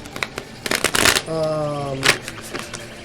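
Tarot cards are shuffled by hand in a quick burst of riffling and flicking, followed by a brief tonal hum and a few scattered taps, close and moderately loud.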